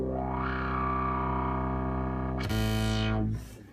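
An Arturia synthesizer filter with drive and resonance shaping a sustained tone: a buzzy, distorted note sweeps upward, then a brighter, more aggressive resonant burst cuts in before fading out, with no talking.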